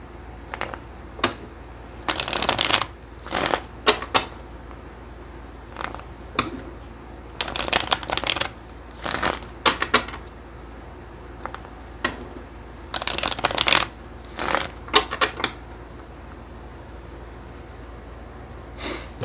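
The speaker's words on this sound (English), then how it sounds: "let's cut the cards and let's get to his reading" Tarot cards being shuffled by hand in repeated bursts of riffling and sliding, close and crisp, separated by short quiet gaps over about nineteen seconds, with no speech.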